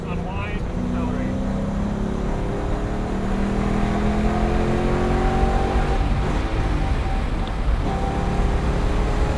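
A Ford Mustang accelerates hard out of a corner at Mission Raceway, its engine droning loud and continuous from inside the car, rising in pitch as it pulls away.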